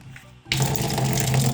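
Water bursts from an opened drain tap on a household electric water heater boiler, a steady loud rushing flow that starts abruptly after a brief quiet moment and continues unbroken.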